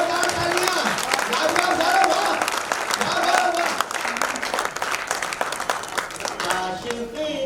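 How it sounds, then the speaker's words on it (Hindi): An audience at a Hindi poetry recital in a hall breaks into loud, sustained applause that continues for several seconds, mixed with crowd voices. "जोरदार तालियां"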